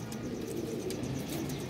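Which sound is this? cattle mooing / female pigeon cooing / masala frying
female pigeon cooing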